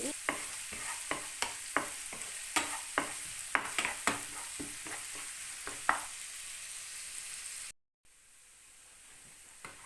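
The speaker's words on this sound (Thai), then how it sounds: "พัดให้กระเทียมหอม" Garlic being stir-fried in a pan for Thai nam prik ong, with a continuous sizzle and a regular series of sharp scraping stirs, then a brief gap before quieter sizzling resumes.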